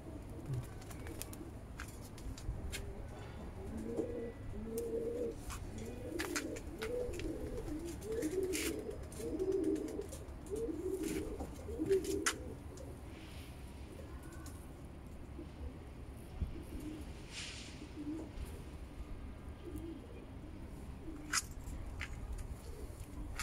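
Several male pigeons, offered for sale and of Belgian lineage, coo in a low, steady, overlapping murmur, with rhythmic throaty phrases repeating close by and faint rustling in the background.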